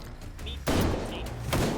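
Gunfire in a firefight in the VR shooter H3VR, a loud burst of shots breaking in partway through and ringing out close and dense before tailing off.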